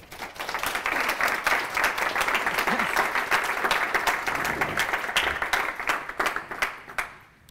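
Audience applause welcoming a lecturer at a humanities lecture hall, a steady dense clapping from a sizable crowd that holds for several seconds and then thins out at the end.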